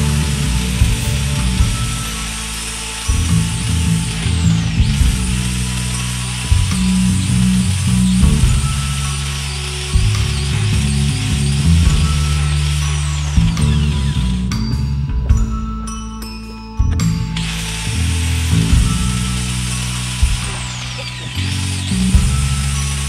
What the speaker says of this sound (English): I'm going to use a flap disc on my grinder, which is going to make a lot of dust